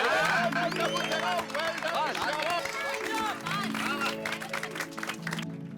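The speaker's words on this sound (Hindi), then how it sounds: "एक बार जोरदार तालियां हो जाए टप्पू सेना" Studio audience applause at a lively sitcom gathering in a housing society, a steady wash of clapping mixed with crowd noise and overlapping music throughout.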